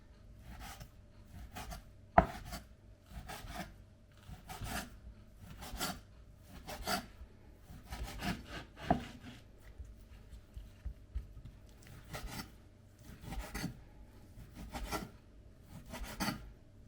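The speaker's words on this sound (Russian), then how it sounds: "Шинка. Нарезаем ее кусочками." A knife saws through ham on a board in regular strokes, soft rasping cuts with light taps, close but quiet over a faint hum.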